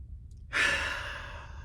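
A single slow, deep exhale sighs out after a moment of quiet, a close breathy rush that fades gradually.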